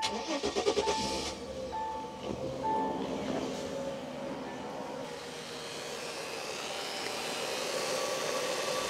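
A 1999 SsangYong Chairman's inline six-cylinder engine runs with a steady broad hum and whir at close range, with some brief clattering near the start.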